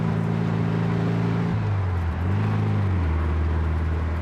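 A 1964 Volkswagen dune buggy engine pulling hard through third gear, a loud droning buzz that drops in pitch as it shifts up and then climbs again, close and continuous.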